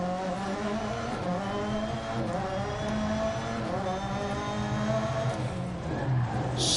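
Subaru rally car engine in the Dirt Rally 2.0 video game, revving and shifting with rising and falling harmonic whine, continuous and close.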